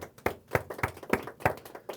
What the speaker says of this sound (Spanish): Un aplauso para el Eterno por eso.